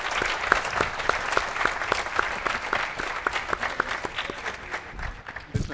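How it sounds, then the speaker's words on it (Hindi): An indoor audience at a corporate sales and marketing event claps steadily, a dense, sustained round of applause from a crowd with no speech over it. "मुजीब साहब के लिए एक भी ताली नहीं बजा रहे आप लोग।"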